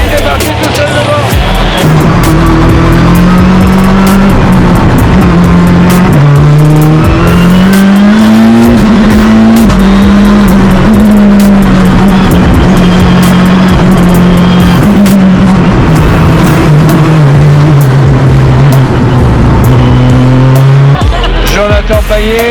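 Race cars roar past at a Dreux racing competition, loud and sustained, with engine pitch rising and falling through gear changes and a French commentator talking over the din.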